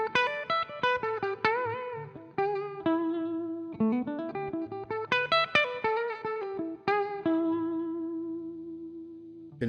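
Clean electric guitar picked with a Dunlop pick, playing a melodic line of plucked single notes and chords with clear attacks and sustained ringing tones, a touch of chorus-like shimmer, close and without voices.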